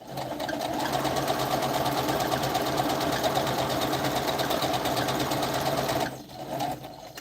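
A home sewing machine set on a noise-dampening pad runs steadily at speed with a fast mechanical whir, stopping abruptly near the end with a brief restart.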